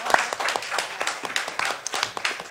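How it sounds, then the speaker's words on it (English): An audience at a talk claps for a speaker, a scattered round of individual hand claps at moderate volume that holds steady for a couple of seconds with no talking over it. "Another round of applause for Hélène"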